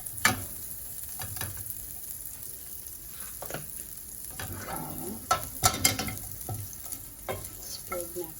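Butter frying in a hot pan for chicken breast peri peri, a soft sizzle with stirring and scraping clatter, close and moderately quiet.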